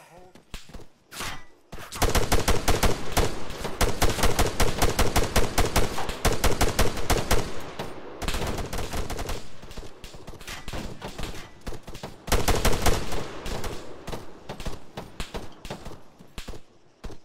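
Heavy gunfire in the military shooter ArmA 3, long sustained bursts of automatic fire and fusillades with brief pauses, loud and close, with some voices mixed in beneath the shooting.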